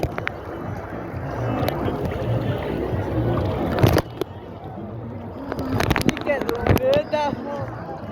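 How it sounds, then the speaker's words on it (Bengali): Strong wind at Digha beach during the monsoon, buffeting the microphone with a rough, steady roar while people talk nearby and a sharp bump breaks through midway. "প্রচুর প্রচুর বাতাস"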